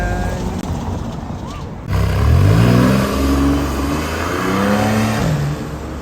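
A Bentley Continental GT revs on the street, a deep engine roar that climbs and falls in two loud surges following a quieter passage, with a voice speaking briefly.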